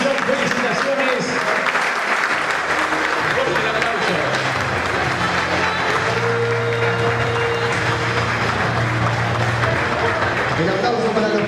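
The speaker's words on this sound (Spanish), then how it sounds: "El aplauso para los profes" Sustained applause fills a football awards ceremony, steady and dense throughout, with an announcer's amplified voice talking over the clapping and a low hum beneath.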